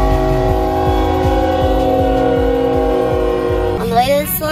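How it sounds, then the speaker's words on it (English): A train rolls past with a rhythmic clatter of wheels over rail joints under a steady rumble, close and loud, heard from a car stopped at a crossing, with a horn-like tone rising near the end. "On the way to the salon, I get stopped by a train."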